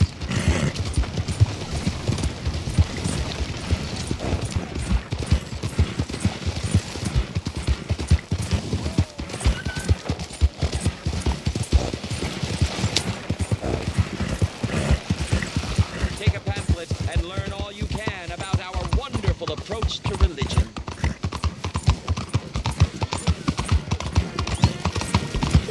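Steady clip-clop of horse hooves on hard ground throughout in the video game Red Dead Redemption 2, with an occasional whinny and faint voices in the background.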